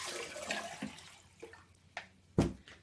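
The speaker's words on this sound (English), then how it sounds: "but when I pour the water in," Water poured into a glass for a kids' light-bending experiment gives a soft, close splashing trickle that fades, followed by a few small clinks and a brief louder slosh near the end.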